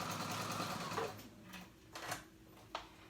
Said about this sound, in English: And my sewing machine, it like knows that I'm trying to gather, so it like gathers it for me as I'm trying to do it.